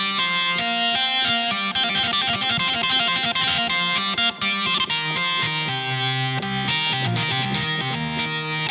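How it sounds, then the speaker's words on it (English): A distorted organ, a classic rock organ sound on an iPad, plays sustained chords with a thick, buzzy, saturated tone, loud and continuous, shifting between chords with no voices. "if we add a distortion here now"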